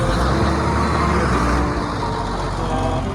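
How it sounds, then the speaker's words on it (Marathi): A large bus diesel engine starts and rumbles steadily and loudly up close, a continuous low idle with no breaks. "आता आपली बस चालू झालेली."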